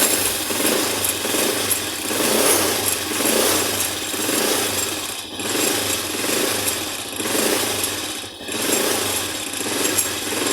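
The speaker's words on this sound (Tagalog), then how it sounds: "Masyadong malamig yung makina." A Racal MD100 motorcycle engine, cold after stalling, runs steadily close by with a loud, rough buzzing drone that briefly dips twice before settling back to its constant beat.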